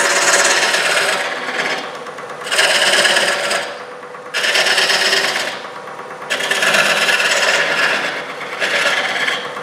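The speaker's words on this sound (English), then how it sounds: "I'm going to use my little less than 90 tool here to make this a square shoulder" A wood-turning tool cuts a square shoulder on an oval bowl spinning on a lathe, producing loud, steady rasping scrapes in several long passes separated by brief dips, with no talking.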